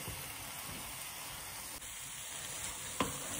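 Zucchini sabji cooks on a high flame, giving a steady, close sizzling hiss that ends with a light clink.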